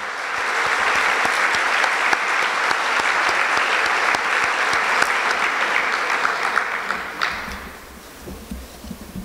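Sustained applause from a crowd at the opening of a national and international arbitration congress in Colombia, steady and full for several seconds before tapering off toward the end.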